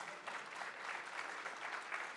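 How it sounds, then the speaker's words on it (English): Faint, distant audience applause for panelists at a TiEcon 2023 investor session, an even wash of many hands clapping that runs unbroken for a couple of seconds, with no voices on top. "Can we have a huge round of applause for the panelists?"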